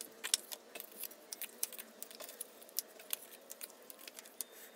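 Quiet, close snipping and small tapping clicks while leather pieces for a wallet are cut out, irregular and light over a soft steady hiss, with no voices.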